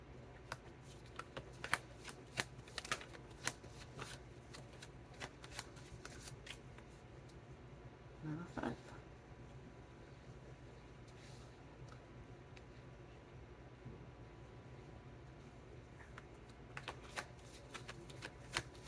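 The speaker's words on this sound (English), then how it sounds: "I'm going to pull some cards from the Psychic Tarot." Psychic Tarot cards being shuffled by hand, soft papery riffles and flicks repeating close by at low level over a quiet room, with a brief louder rustle partway through and no talking.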